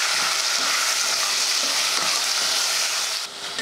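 Mutton bones sauté in hot sesame oil with turmeric and curry leaves, a loud, steady broadband sizzle with soft stirring scrapes running throughout, dipping slightly near the end.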